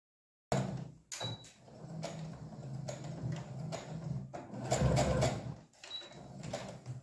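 Sewing machine stitching fabric around felt for a glasses case: close mechanical whirring runs in several bursts separated by brief pauses and clicks, alone without talk.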